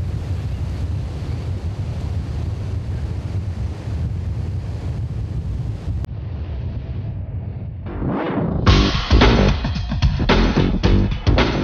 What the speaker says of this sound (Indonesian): Contohnya antara lain bunyi ombak, bunyi angin.